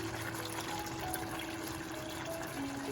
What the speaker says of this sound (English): I'll add a little bit of water again